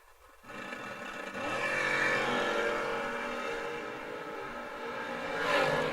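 A drag racing car launches down the strip at a racetrack, engine roaring up quickly after a quiet start and holding a strong, rising whine as it pulls away, moderately distant.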